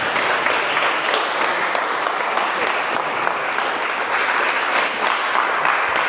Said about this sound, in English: give a big, massive round of applause to Fatima Whitbread